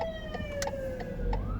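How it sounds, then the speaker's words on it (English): An ambulance siren wails along a street, a steady tone slowly falling in pitch as the vehicle passes, fairly loud and continuous with no talk over it. "Oh, we got an ambulance coming down here,"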